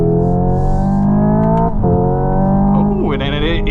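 A 2025 Hyundai IONIQ 5 N electric car pulls away with a loud, steady synthetic engine-like drone. The pitch climbs sharply near the end as it accelerates.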